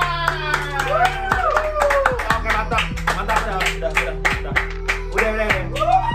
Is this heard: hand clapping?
yes